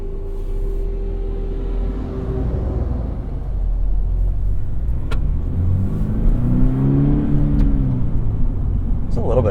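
A 2022 Toyota GR86's engine idles with a low rumble, then revs up and slowly falls back as the revs hang. Voices talk over the engine inside the car.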